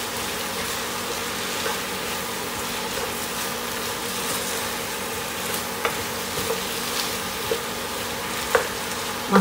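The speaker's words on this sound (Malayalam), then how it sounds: "എല്ലാം കൂടി ചേർത്ത് നന്നായി മിക്സ് ചെയ്യുക" Chicken thoran being stirred with masala in a pan, giving a steady soft sizzle and scraping with occasional sharper clicks of a spoon against the pan, close and continuous with no voices.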